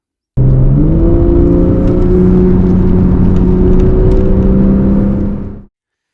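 A naturally aspirated Porsche 911 Carrera 4S engine revs hard from close by, its pitch climbing and holding in a loud, smooth whine before cutting off abruptly.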